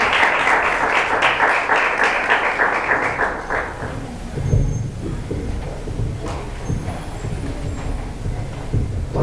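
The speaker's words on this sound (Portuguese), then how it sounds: "As palmas louvam o Senhor" A church congregation applauds in praise, and the dense clapping is loud at first before it thins into scattered claps and rustling, with some low thumps.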